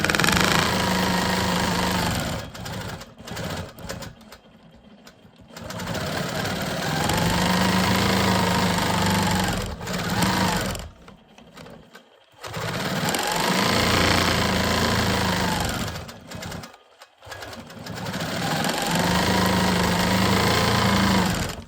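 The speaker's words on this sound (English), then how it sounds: "let's go ahead and finish quilting these straight lines" A sewing machine quilts straight lines across fabric panels for a custom bag, running in loud sustained bursts with several short pauses between seams; no talking is heard.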